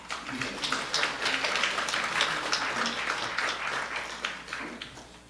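Audience applause welcomes the keynote speaker, Professor Emeritus Lee Sang-gyu, to the stage at the 2019 Jeju Studies international academic conference. The clapping is steady and dense throughout, with no talk over it.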